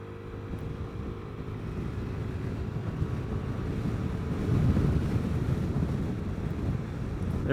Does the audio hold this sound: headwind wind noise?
yes